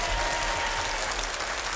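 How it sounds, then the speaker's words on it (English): Crowd at a 1984 Irish show featuring Hercules the wrestling grizzly bear, clapping in a brief, dense burst that stays steady and loud for under two seconds. "Give him a round of applause"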